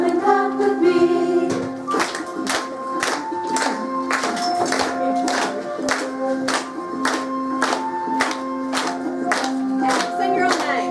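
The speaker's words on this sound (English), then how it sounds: "come and clap with me" Hands clap in a steady, even beat along to a cheerful children's welcome song, each clap crisp and close over the singing and instrumental accompaniment.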